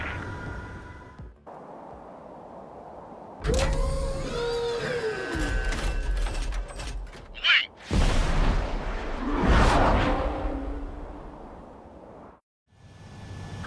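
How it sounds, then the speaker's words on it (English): UAVs launching from a carrier deck in the video game Ace Combat 7, with loud sustained jet roar and whooshing launch blasts, a rising tonal sweep and a sharp hiss, broken by brief quiet gaps. "UAVs ready to launch. Away."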